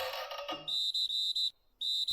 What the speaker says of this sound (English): Moments later, a sharp, piercing whistle cut through the air.